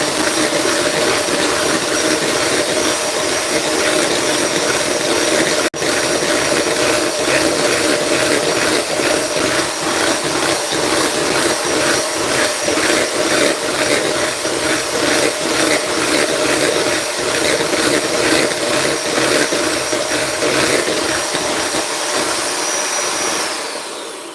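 A homemade ice cream machine churns peanut butter strawberry ice cream, a loud, steady motor whir with a rhythmic mechanical grinding pulse that holds constant, with no talking.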